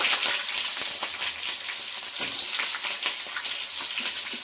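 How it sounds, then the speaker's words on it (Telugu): Chopped onions with green chillies and whole spices fry in hot oil for chicken leg piece biryani, a continuous dense sizzle with occasional stirring scrapes, close and fairly loud with no talk. "ఇవైతే ఆనియన్స్ బాగా వేపాలండి, మంచి బ్రౌన్ కలర్ రావాలి."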